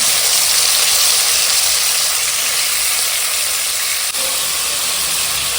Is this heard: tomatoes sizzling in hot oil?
yes